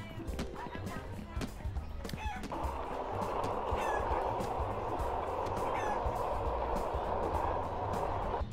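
Chicken clucking in the video game Bad Guys at School, steady and fairly loud, mixed with game noise and a voice talking over it.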